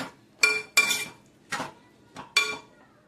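Spoon clattering against a pan while mixing a vegetable dish with grated coconut, a handful of separate sharp metallic scrapes and clinks at close range with quiet pauses between.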